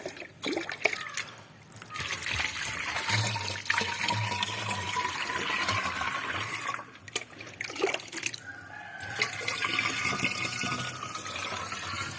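Water poured into a 5-litre plastic spray can for garden spraying, a steady close trickle and splash lasting several seconds with brief pauses, no talk over it.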